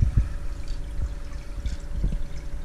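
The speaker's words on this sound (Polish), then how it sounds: "woda wylatuje, nie jest ograniczona niczym" Water gushes freely out of the hose outlet of a DCT 4000 pump, a low churning flow with irregular splashes and gurgles, close by and moderately loud.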